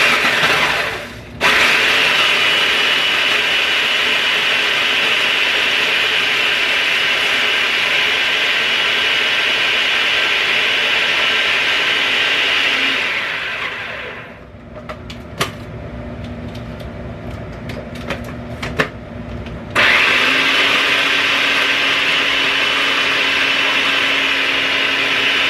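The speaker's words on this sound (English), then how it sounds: "You need to crash up the whole bag in your food processor." A food processor pulverizes a whole bag of Oreo cookies with a loud, steady whirring grind that dips in pitch around mid-run, stops briefly to leave a few quiet clatters, then starts up again.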